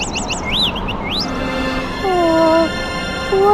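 Little cartoon birds chirping, a run of quick rising tweets followed by longer sliding whistle-like calls, close and loud with a steady background hiss, no speech.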